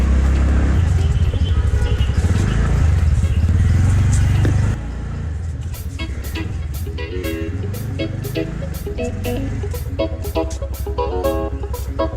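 A TVS NTORQ 125 scooter idles steadily with a low engine rumble while being parked, then the engine cuts out, leaving quieter background noise and a few light clicks and taps.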